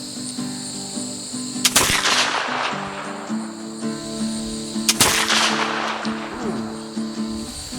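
A Kentucky muzzle-loading rifle fires a hang-fire shot at a 25-yard range: one sharp, loud blast near 1.7 s, another strong report around 5 s, with steady insect-like background hum throughout.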